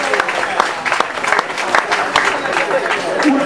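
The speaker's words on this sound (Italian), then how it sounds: "Un applauso per Alessandro" A crowd at a football team presentation gives a player a round of applause, dense steady clapping heard up close.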